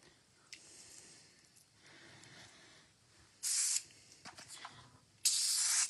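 Adhesive spray can nozzle spritzing, two loud sharp bursts of hissing spray near the end after quieter sputtering attempts from a partly clogged nozzle, close and clear.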